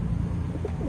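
Pigeons coo softly in a short burst, a low throaty murmur at close range with no other sounds.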